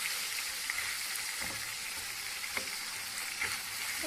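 Chicken pieces sizzle steadily in a hot pan as a second batch fries, a constant close crackle with no voices.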